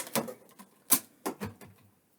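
Scattered clicky taps in a few irregular bursts, like keys being typed on a keyboard close by, with short pauses between and no talking.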